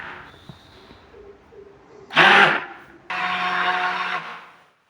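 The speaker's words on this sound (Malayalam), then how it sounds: "നമുക്ക് ചെറുതായിട്ട് ലൈറ്റായിട്ടൊന്ന് ബ്ലെൻഡ് ചെയ്തെടുക്കാം." A blender whirs through a manjishta soap mixture in two short bursts, a sharp high-pitched spin followed by a longer steady whine, close and fairly loud against a quiet background.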